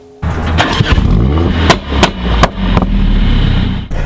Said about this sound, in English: that was a loud start whilst I was holding the upshift, which does give a nice little crack and pop